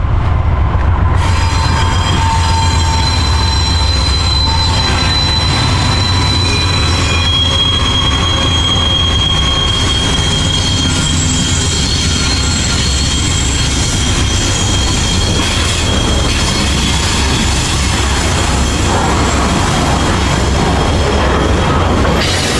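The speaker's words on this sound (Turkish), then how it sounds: "Neyse ki şansıma bir tren geçiyor." A train rolls loudly past close by, a steady heavy rumble with high metallic wheel squeal running throughout, no voices.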